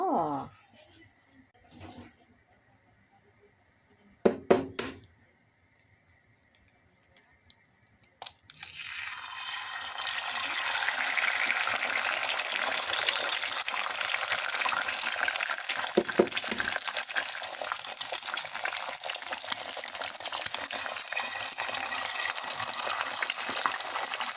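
After a few quiet knocks and clinks, a loud, steady sizzle of an egg frying in hot oil starts up and continues close by.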